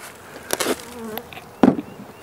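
Bees around a Saskatraz-type breeder hive (the stated name is unclear), buzzing in a few close, brief swells with a louder burst near the end, fairly quiet overall and without talk.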